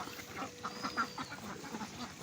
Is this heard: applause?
no